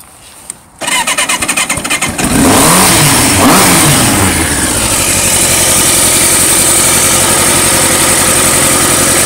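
A Kawasaki ZX7 motorcycle engine cranks with a brief starter chatter, fires and catches with a loud rev, then settles into a steady, close, rumbling idle.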